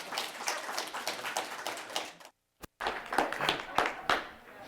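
An indoor audience at a climate-change talk on Cape Cod claps for a speaker introduced as a Boston Marathon runner, scattered sharp claps building over a few seconds, interrupted by a brief silence, then resuming.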